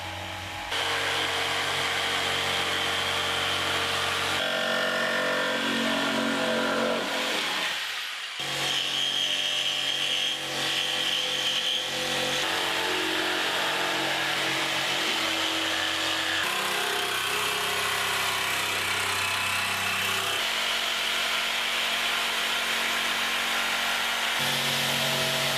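Bosch GST 140 jigsaw cutting wood, a loud continuous buzzing saw motor with shifting pitch across several cuts and a brief pause near the start, no talking.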